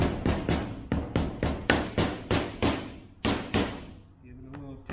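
A dead blow hammer taps a Can-Am differential's front cover into place with about a dozen even, close thuds in a steady rhythm, then stops. A faint ring follows.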